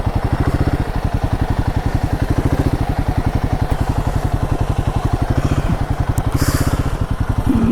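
A motorcycle is being parked in an open, sunny lot near a Himalayan temple, its engine idling nearby in a fast, even, throbbing pulse that stays loud and steady throughout.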